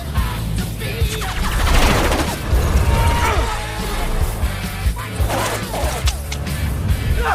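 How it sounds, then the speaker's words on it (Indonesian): Gunfire in a film shootout in the sky, with rapid bursts of shots, crashes and whooshes layered over a loud rumbling action soundtrack. "aksi tembak-tembakan di langit pun tak terhindarkan"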